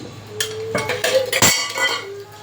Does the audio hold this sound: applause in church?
no